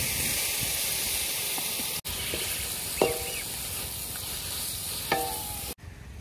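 Onions and tomatoes sizzle in a pan with a constant crackling hiss. A few sharp clinks and scraping stirs break in now and then.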